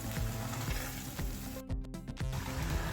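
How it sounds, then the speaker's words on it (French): Crushed garlic, onion and ginger fry in oil for a black-pepper shito, giving a steady, dense, close sizzle with occasional stirring scrapes and no voices. "ail, oignon, gingembre que j'ai écrasé dans l'huile comme ça. Je mélange et je vais laisser frire"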